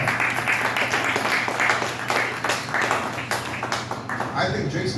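Audience applause at a political fundraiser, a dense, moderately loud patter of many hands that continues throughout with voices mixed in.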